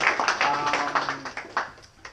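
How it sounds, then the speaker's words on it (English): Audience applause at a tech talk, a short burst of scattered individual claps, fairly close, tapering off over about two seconds. "A warm applause, please."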